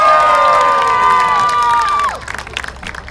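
A crowd shouts and cheers in a loud sustained burst that cuts off abruptly, followed by scattered claps and noise.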